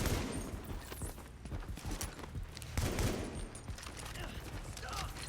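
A deployed turret in The Division fires bursts of gunfire, with a sharp crack near the start and rattling shots going on over a busy game mix, while a voice talks at times.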